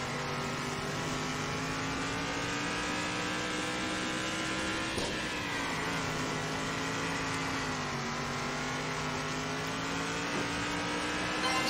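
Stock car engines race around an oval circuit in the Circuit Superstars video game, a continuous high-revving drone with pitch rising and dipping through the turns, steady and fairly loud with no talk.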